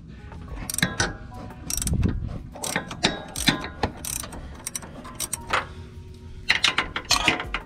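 A ratchet working loose the motor mount bolts on a Mazda Miata with a 2.5 engine swap, rapid metallic clicking in repeated bursts with pauses between, close and fairly loud.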